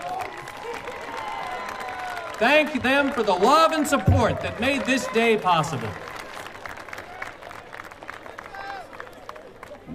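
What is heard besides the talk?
audience applauding graduates' families at commencement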